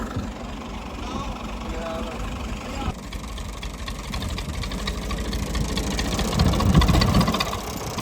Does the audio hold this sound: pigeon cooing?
no